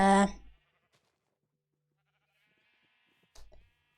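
A sheep in the Minecraft video game bleats once, short, loud and close, followed by near silence and then a faint blip of another game sound, with no talking.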